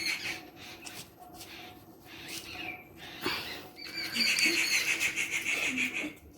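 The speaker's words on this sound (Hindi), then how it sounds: "घर में इतने सारे चिड़ी और कबूतरों ने घर बना रखा है" Sparrows and pigeons nesting inside a house chirp and twitter in short bursts, growing denser and louder toward the end, over a faint steady hum from a slow-running ceiling fan.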